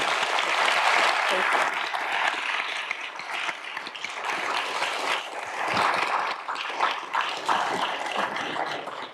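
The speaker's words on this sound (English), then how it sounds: "give one more round of applause to Mary" Sustained applause from a live audience at the close of a leadership dialogue event with GM's CEO, dense and steady, filling the room for the full stretch.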